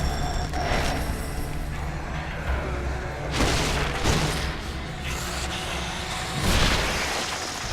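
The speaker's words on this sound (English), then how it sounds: "I could outrun them until they explode" Enemies blow up in The Executioner game, three short explosive bursts spaced a second or two apart over a continuous rumbling background of game noise.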